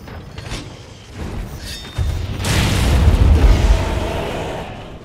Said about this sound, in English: Here's footage of me and my hunting partners setting down bombs during our Barrioth hunt